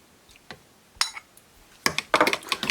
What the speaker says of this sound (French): Là je fouette rapidement